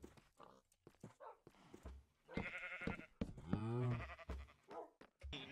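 Sheep bleating in the Minecraft video game, several drawn-out wavering bleats among other farm-animal noises, with someone talking over them.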